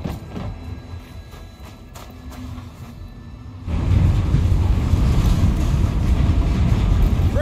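A train in the video game Gears 5 pulls away, starting as faint mechanical clatter and then surging into a loud, sustained rumble of rolling wagons for the second half.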